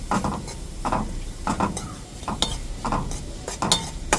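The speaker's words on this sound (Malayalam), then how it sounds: "പിന്നെ മഞ്ഞൾപ്പൊടി ഇട്ടു ഇങ്ങനെ ഇളക്കി കൊടുക്കുക." Stirring in a sizzling pan as turmeric powder is mixed into frying onions, with rhythmic scraping strokes and clinks of a utensil against the pan over a steady close sizzle, no talking.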